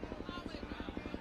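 A police helicopter flies overhead at an outdoor Chicago police versus fire department baseball game, its rotor giving a rapid, steady thumping pulse under a busy ambient wash.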